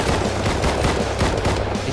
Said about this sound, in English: Oh, more shots.